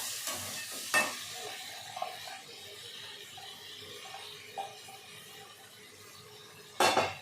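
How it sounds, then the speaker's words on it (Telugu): Moong dal stirred into frying tomatoes in a pan, a low steady sizzle with a few sharp clanks of a spoon against the pan at the start and end, close and fairly quiet. "పచ్చనిపప్పు వేసుకొని ఈ విధంగా కలిపేసుకోవాలి."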